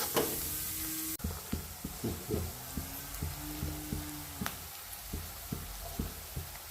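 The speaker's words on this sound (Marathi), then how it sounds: "कांदा टाकून घ्यावा टाकून कांद्याला कलर बदलेपर्यंत परतून घ्यायचं" Chopped onion sautéing in a pan for paneer bhurji: a steady soft sizzle with a spatula scraping and stirring in repeated strokes, close and alone.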